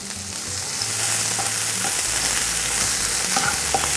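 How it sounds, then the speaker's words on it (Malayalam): Chopped onions sizzle steadily in hot coconut oil in a pan, a loud continuous frying hiss with occasional faint stirring clinks. "നമുക്കിനി സവാള വഴറ്റാനായിട്ട് സ്വല്പം വെളിച്ചെണ്ണ ഒഴിച്ചു കൊടുക്കാം നമുക്ക് രണ്ട് സവാള ചെറുതായിട്ട് ചോപ്പ് ചെയ്ത് നല്ലോണം വഴക്കിയെടുക്കാം"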